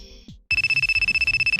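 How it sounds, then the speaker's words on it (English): A mobile phone rings loudly and close by, its electronic ringtone pulsing in quick, even repeats after a short tonal lead-in, with no one talking over it. "Wow, your phone's blowing up."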